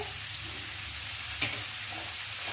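Kakora (spiny gourd) and onions fry in oil over a high flame, a steady close sizzle with a brief scrape of a spoon stirring the pan midway.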